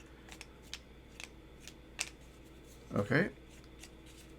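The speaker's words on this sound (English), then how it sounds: "So these are the opening tiles, and we're gonna shuffle them" Cardboard tiles from The Night Cage, a horror tile-placement board game, shuffled by hand in a short riffling burst after a few soft clicks, close and moderately loud, following a brief spoken word.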